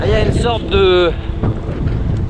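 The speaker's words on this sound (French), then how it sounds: "crachin qui est dispersé par le vent" Gusty wind buffets the microphone in a low, steady rumble on a stormy ride through drizzle, running under close talking throughout.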